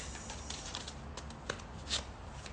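A tarot card deck being shuffled close by, a soft papery riffling with a few crisp snaps, quiet and alone for a couple of seconds.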